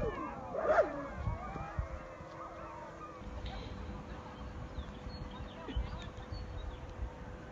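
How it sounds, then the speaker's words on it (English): Dogs howl on a full-moon night in Transylvania, a brief wavering cry early on, then fading into a faint, steady outdoor background. "you could hear the dogs howling."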